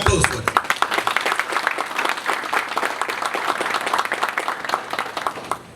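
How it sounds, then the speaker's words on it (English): Audience applause at a Haitian community event, close, somewhat uneven clapping with distinct individual claps standing out, with a voice briefly audible at the start before the clapping carries on steadily. "An applause for them."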